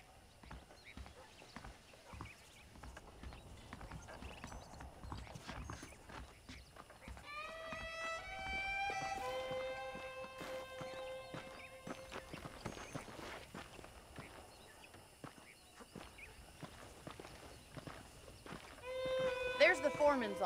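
Hooves clip-clop at a steady walking pace throughout, with a whinny in the middle and another near the end, under someone talking, in the video game Red Dead Redemption.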